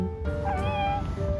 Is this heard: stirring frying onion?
no